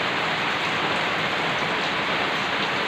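Heavy rain from Typhoon Agaton falls outside on a dark, windy evening, a loud continuous hiss of drops on surfaces with no break or other sound.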